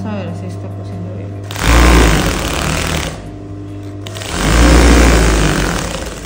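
A home sewing machine, freshly threaded, runs two short bursts of stitching through fabric, its close mechanical whir rising and falling, with a steady low hum and some talk between the runs.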